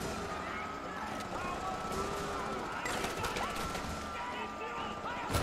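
AK rifle gunfire in Far Cry 4's Shanat Arena, short sharp bursts set against a busy backdrop of game sound at a moderate, fairly distant level.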